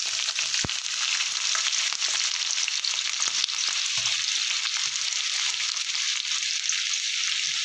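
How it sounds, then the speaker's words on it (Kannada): Onions frying in hot oil for Nellore chicken sukka, a loud continuous sizzle with occasional stirring scrapes and a sharp tap or two. "ಫಸ್ಟು ಎಣ್ಣೆ ಕಾದಿದ ತಕ್ಷಣ ಈರುಳ್ಳಿನ ಕೆಂಪು ಹುರಿದು ಫಸ್ಟ್ ತೆಗೆದಿಟ್ಕೊಂಡ್ಬಿಡೋಣ."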